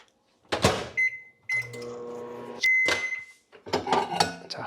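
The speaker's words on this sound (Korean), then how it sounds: "얘를 전자레인지에 데워줄 건데 딱 30초 동안 데워줄 거예요." A microwave oven warms a frozen dessert: a door thud and bright beeps, then a steady electric hum with a tonal whine for a few seconds, another beep and a clatter of the door and dish near the end.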